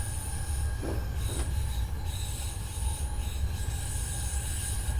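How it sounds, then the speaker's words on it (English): A Keihin-Tohoku line E233-3000 electric train passes in Train Sim Classic, with loud continuous wheel squeal and rail rumble, steady and close, with tonal whines throughout. "There's a Keihin-Tohoku train. Neatly overtaken."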